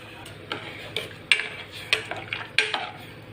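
Washed lentils and rice are tipped into a pot and stirred for khichdi, giving a run of sharp metallic clinks and scrapes spaced roughly half a second apart, close and fairly clear.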